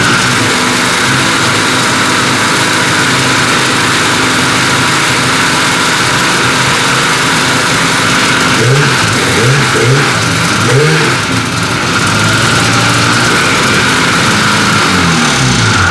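A snowmobile engine fires up and revs hard, a loud, steady roar running throughout with uneven throttle surges in the middle and no voices over it.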